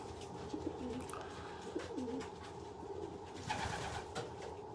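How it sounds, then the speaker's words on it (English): A racing pigeon coos softly on a drinker inside a loft in a few low, rolling phrases against faint background noise, fairly quiet and somewhat distant. "There's one of the later birds cooing on the drinker"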